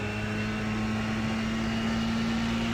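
A racing car engine held at full throttle in iRacing at Lime Rock Park, a steady loud droning hum with a strong sustained tone that never lets up, with no voices over it.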